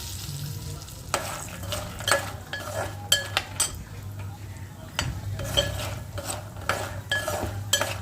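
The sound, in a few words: mung bean vadiyalu frying in oil on low flame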